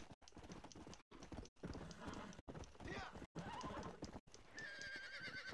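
Horse hooves clip-clopping in a galloping rhythm with a whinny, from the video game Red Dead Redemption, repeatedly cut by short silences and mixed with game sounds and a person talking.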